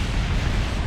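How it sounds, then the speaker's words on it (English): A spacecraft crashes and explodes on impact in the video game Kerbal Space Program, giving a dense, loud, sustained roaring blast of rumbling noise. "we're going to impact here. Kaboom!"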